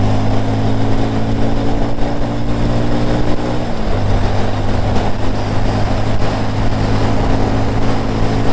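A Bajaj Avenger 160 Street cruiser motorcycle engine hums steadily throughout, dropping briefly in pitch around the middle before settling into a continuous loud drone, no voices.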